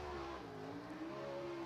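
Sprint race car engine on a qualifying lap at an All Star Circuit of Champions event at Screven Motorsports, a steady harmonic drone with rising pitch, moderately distant and continuous throughout.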